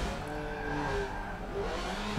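A Lancia 037 races in Forza Motorsport 7, its engine droning with shifting pitch and tires squealing under steady, loud game-car noise.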